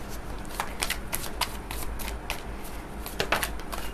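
Tarot cards are shuffled for a reading, a close, continuous riffling flutter with repeated quick bursts of card edges slapping together, faint room hum beneath.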